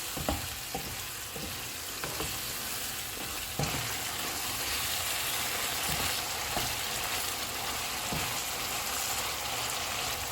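Ground spices including red chilli, cumin, coriander, white and crushed black pepper frying in oil in a pan, a steady sizzle with scattered stirring clicks and scrapes, no voices.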